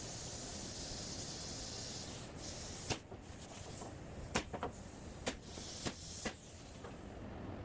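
Sharp clicks and pops from a 16 gauge nailer driving 2-inch nails into glued wooden frames for a pizza display case, a handful of separate shots over steady background hiss.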